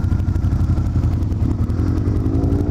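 A shaft-driven 1600 V-twin cruiser motorcycle engine running close by, a loud, steady, loping low rumble with rhythmic pulses and a slight rise in pitch toward the end.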